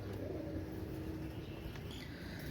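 A pair of Oman Teddy pigeons coo softly in a low, throaty rolling murmur, faint and somewhat distant against a quiet background.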